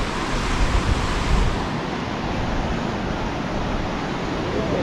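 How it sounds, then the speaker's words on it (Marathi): Sea waves at Devghali beach near Kasheli, Rajapur, on the Konkan coast: a steady, broad roar of surf with some wind, loud and continuous throughout, with no voices. "आणि इकडे सर्व समुद्र आहे बघा."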